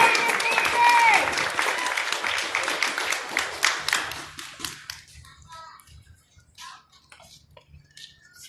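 Audience applause welcoming a speaker onto the stage at a live event, loud dense clapping from a crowd that thins out and fades to scattered claps after about four seconds.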